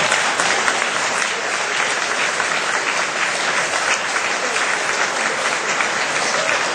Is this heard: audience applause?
yes